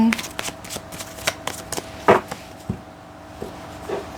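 Tarot cards shuffled by hand for a Sagittarius love reading, a series of quick papery riffles and taps of varied loudness, close up, with someone talking over part of it.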